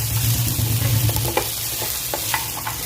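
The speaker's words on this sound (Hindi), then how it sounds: "इसमें हम अभी अदरक, लहसुन और लाल मिर्च डाल देंगे। इसको भी इसके साथ में सौते करेंगे।" Onion, ginger, garlic and red chilli sautéing in a pan for restaurant-style chicken chilli gravy: a loud continuous sizzle with scraping stir strokes throughout.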